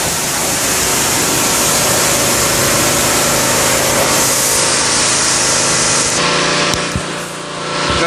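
Pressure washer spraying a 1974 Volkswagen Thing during rust cleanup, a loud continuous hissing blast of water with a slight shift in tone partway through, no talking.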